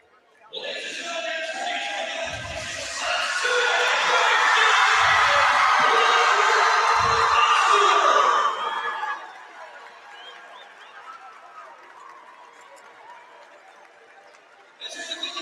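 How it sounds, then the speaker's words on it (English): A loud arena crowd roars and cheers at a girls basketball state championship trophy presentation, rising to a sustained peak with whoops, then dropping to lower chatter before a fresh burst of noise at the end. "We're going to let the crowd tell the story"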